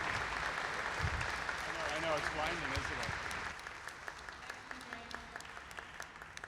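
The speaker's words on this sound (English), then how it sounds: "let's give him a round of applause." Audience applause at a live glassblowing hot shop show rustles steadily throughout, with a voice speaking over the clapping at the start before it fades a little.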